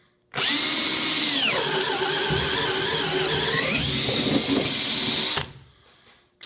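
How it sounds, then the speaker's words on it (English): A hammer drill whirs loudly and steadily for about five seconds, its pitch dipping as the bit bites into wood, then cuts off abruptly. "I'm going to drill a new hole right here"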